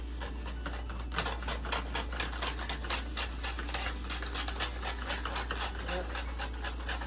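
Scissors snipping through wrapping paper during gift wrapping, a steady run of quick crisp cuts close by over a constant low hum.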